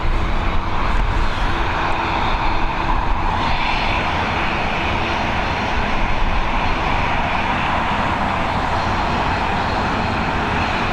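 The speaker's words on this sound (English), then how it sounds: "This ATR 72-600 series now on departure." An ATR 72-600 turboprop airliner departs from runway 28L at Dublin Airport in the evening, its engine roar a steady, loud broadband rumble that holds for about eleven seconds with no talking.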